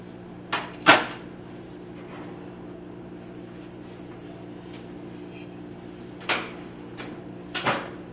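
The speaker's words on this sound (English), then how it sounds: "we're going to go ahead and take these out of the oven" Oven door creaking open and clunking around a tray of baked taco rings, a few sharp knocks and clatters near the start and again toward the end with quiet kitchen hum between.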